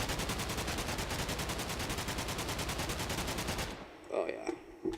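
Rapid, sustained light machine gun fire in a modded Minecraft game, a dense continuous rattle of shots that cuts off near the end, followed by a few faint clinks and a brief voice.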